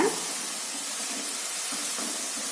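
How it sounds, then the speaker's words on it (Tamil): Potato finger chips frying in hot oil on a low flame, giving a steady, even sizzle and hiss that holds at a constant level throughout, with faint bubbling crackles underneath. "இப்ப சலசலப்பு ஓரளவுக்கு அடங்கிடுச்சுங்க"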